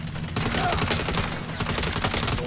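Sustained rapid gunfire aimed at a turret in Saints Row (2022), a continuous crackling volley of automatic shots that stays loud throughout, mixed with game sound effects and no clear speech.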